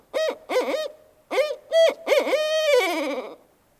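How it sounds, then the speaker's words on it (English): A barred owl, a medium to large tuftless Wisconsin native, calls in a close, clear series of rhythmic hoots, the last one drawn out and sliding downward into a wavering tail. "the barred owl is a Wisconsin native species"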